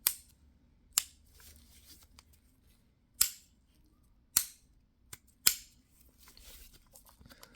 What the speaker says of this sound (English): The safety feels pretty good as well. There's no wiggle in either position. It clicks in nicely.